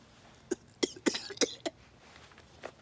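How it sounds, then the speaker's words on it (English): A short burst of several coughs close by, sharp and uneven, then quiet with a faint trailing sound. "Morning cough."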